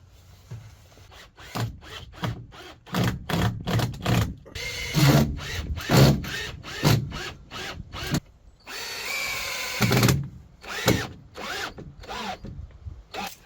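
Power drill driving screws into the wooden bed frame of a Peugeot Boxer Mk 1 campervan conversion, a run of short, close bursts of whirring with pauses between, some longer runs in the middle, no talk.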